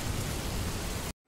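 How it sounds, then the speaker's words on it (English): Steady synthetic rain hiss from the Noisli noise generator, a broad even wash of noise that cuts off abruptly near the end, leaving near silence. "That's rain."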